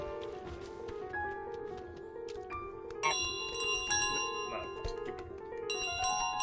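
A bicycle-style bell rings repeatedly in Untitled Goose Game, bright pings recurring throughout over game music, with denser clusters of rings in the second half.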